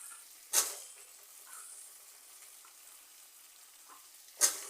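Potatoes with spices and added vegetables such as aubergine frying in a pan, a faint steady sizzle broken by two sharp bursts of hissing spatter, with rain noise in the background.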